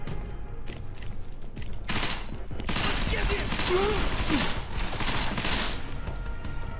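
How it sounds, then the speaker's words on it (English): Machine pistol fire in the video game Deus Ex: Mankind Divided comes in sustained rapid bursts over a dense, noisy game soundscape, the shooting continuous and loud throughout. "It's a machine pistol. I was holding down RT."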